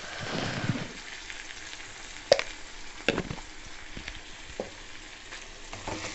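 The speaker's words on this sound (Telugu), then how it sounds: "చికెన్ అనేది కలుపుతూ ఉన్నాను బాగా" Chicken curry frying in a pan while being stirred, a steady sizzle broken by several sharp scrapes and knocks of the spoon against the pan, close and fairly quiet, with no talking.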